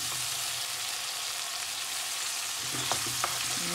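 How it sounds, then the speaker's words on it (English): Chopped tomatoes frying in a pan for aubergine bhaaji, giving a steady close sizzle throughout with a few faint utensil clinks near the end. "Add the chopped tomatoes."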